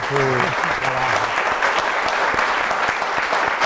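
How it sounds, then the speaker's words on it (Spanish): Audience at a book presentation applauding the author: steady, full clapping from a room of people throughout, with a voice briefly heard over it at the start. "un aplauso al autor"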